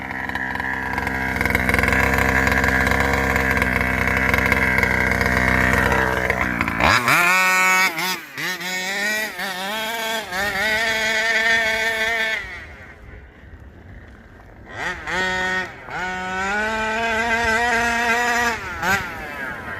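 Baja dirt motorbike fitted with a new exhaust pipe, ridden through grass and dirt: a loud steady engine drone gives way to repeated revs and gear-change surges, close and continuous, with no talk.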